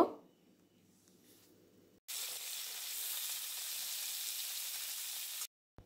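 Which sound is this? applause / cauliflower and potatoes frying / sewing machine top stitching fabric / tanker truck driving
cauliflower and potatoes frying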